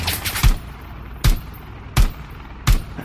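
Four separate gunshots from a Rainbow Six Siege match, spaced roughly evenly apart with sharp loud cracks and brief tails, one after another with no talk.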